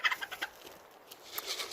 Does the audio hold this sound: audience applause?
no